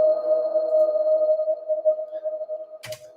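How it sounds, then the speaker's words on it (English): A long sustained drone from a We Are Stardust reverb tail holds one steady tone for nearly three seconds with slight wavering. A short bright scratchy burst cuts in near the end. "it just gives you a nice long reverb tail that's just kind of like a drone, makes a nice pad underneath everything"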